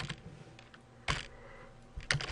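A few scattered keystrokes clack on a computer keyboard while code is entered for a robotics program, sparse and fairly quiet with short pauses between presses.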